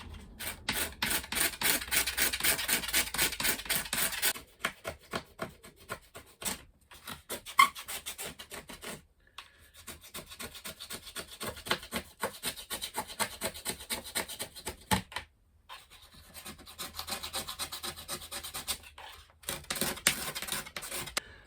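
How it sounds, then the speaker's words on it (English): A scraper rasping dried oil paint off a surface in an artist's studio, repeated close, gritty strokes in bursts with short pauses between them. "Okay, scrape. It's got oil paints on it."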